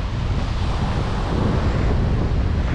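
Strong wind blows at the Manila Bay seaside during a severe typhoon, a loud, continuous roar buffeting the microphone with a rumble of surf underneath.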